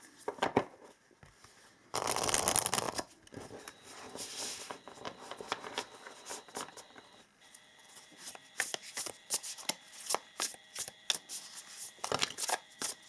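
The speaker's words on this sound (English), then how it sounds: "So we will shuffle this deck and I will pull 6 cards" A deck of tarot and angel cards being shuffled in several bursts, a riffle followed by repeated quick flicks and slides of the deck, close up with no talking.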